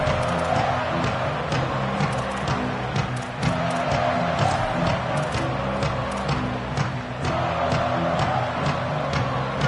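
A packed college football stadium crowd at a USC vs Oregon game roars after a punt return, a dense, steady wall of cheering that stays loud and unbroken for the whole stretch with no clear individual voices.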